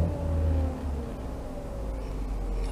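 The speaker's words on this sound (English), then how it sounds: "what I'm going to do is rev it up a little bit" A 2014 Ford engine revs up from idle, a low steady engine rumble with a brief rise in pitch at the start before settling back, close and moderately loud with no talk.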